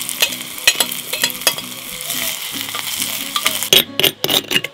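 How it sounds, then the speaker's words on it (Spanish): Onion hits hot oil in a clay pot in a ranch kitchen, giving a loud crackling sizzle with repeated scraping stirs that come in quick bursts, grow busier toward the end, and are heard close without voices. "Como ya está caliente el aceite, ya le voy a poner la cebolla para que se vaya sazonando."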